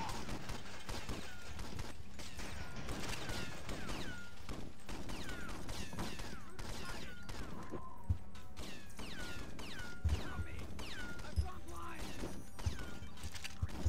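Sniper and other gunfire in the PC game James Bond 007 NightFire, island mission, scattered shots and thuds among busy game sounds and music, with a few louder low impacts.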